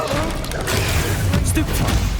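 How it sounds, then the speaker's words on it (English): Expelliarmus spell cast in the video game Hogwarts Legacy, a burst of magical crash and impact noise amid dense, continuous battle sound with low rumble throughout. "Expelliarmus!"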